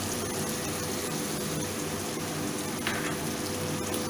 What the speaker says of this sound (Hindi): देखिए टमाटर कैप्सिकम भी फ्राई हो चुकी है, अब मैं इसमें अदरक और लहसुन का पेस्ट दे दूँगी।